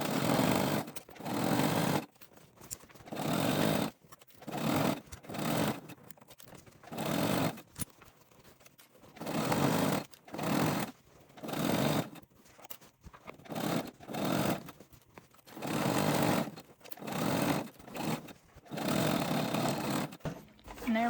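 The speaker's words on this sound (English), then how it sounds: "Here we are, bottom all sewn together, so let's flip it inside out." A sewing machine stitches fabric for a ghost-shaped Halloween trick-or-treat tote bag, running in repeated bursts of rapid mechanical whirring with short pauses between runs, close and fairly loud, with no talking.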